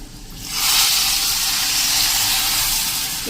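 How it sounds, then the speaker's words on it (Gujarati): A sudden loud sizzle bursts in as hot oil hits food, then keeps hissing steadily and close up with no talking. "આ વઘાર આપણે જો આ ખીચડીમાં જ રેડી દેશું"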